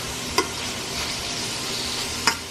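Food sautéing in olive oil in a pan, a steady close sizzle with two sharp utensil clicks against the pan at the start and end.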